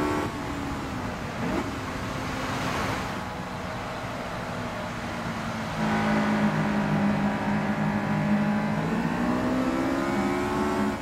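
A race car engine at Spa-Francorchamps in Gran Turismo Sport drones steadily, rising and falling in pitch through gear changes and getting louder partway through, with no voices over it.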